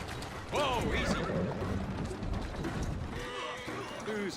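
A horse in the video game Assassin's Creed Syndicate lets out a loud, close whinny over steady clip-clop hoofbeats, with a voice speaking partway through.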